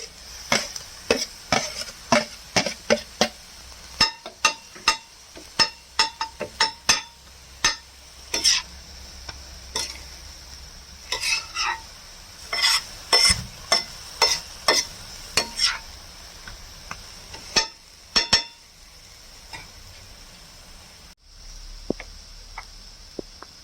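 Tomatoes frying for kothu parotta with egg, with a spatula stirring and scraping the pan in a quick, irregular rhythm of sharp clinks over a steady sizzle, close and fairly loud with no talk.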